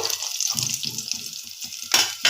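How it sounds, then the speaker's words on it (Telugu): Peanuts frying in hot oil for a Telangana-style semiya dish, a close, steady sizzle with soft stirring clatter and a couple of louder bursts near the end. "పల్లీలు వేసుకోవాలి. ఆయిల్లో కొంచెం ఫ్రై అయిన తర్వాతనే"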